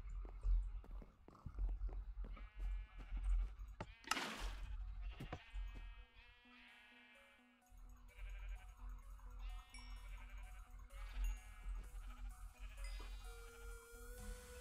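Sheep bleating in the Minecraft video game, several wavering calls one after another, clear and close over quiet game ambience, with a brief burst of noise midway.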